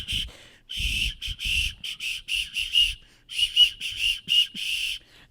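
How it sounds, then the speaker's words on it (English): A whistle is blown in a rapid series of short, shrill blasts, some clipped and some held slightly longer, loud and close with brief pauses between them. "What was that noise? Oh, you have a whistle."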